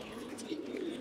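Fighting pigeons coo in a short, soft, low burble, fairly close, over a faint background murmur.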